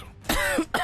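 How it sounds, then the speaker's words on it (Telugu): A woman gives two rough, close coughs in a short burst in an indoor TV serial scene. "ఎందుకు అలా దగ్గుతున్నావు?"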